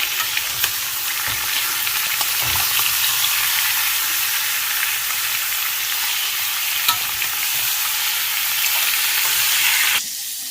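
Chicken pieces, onions and potatoes frying together in a pan give off a loud, steady sizzle that runs unbroken for about ten seconds, with a few soft stirring knocks, before cutting off abruptly.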